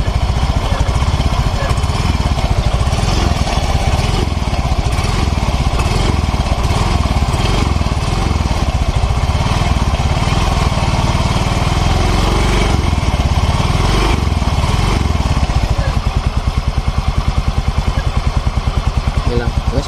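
Small engine running steadily at raised RPM, a continuous loud drone with rough mechanical clatter that holds throughout and shifts slightly near the end.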